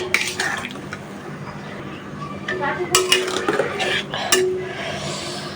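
Koi fish are cooked in spiced masala in a pan, with a spatula stirring and scraping against the metal, making close clinks and clatters in uneven bursts.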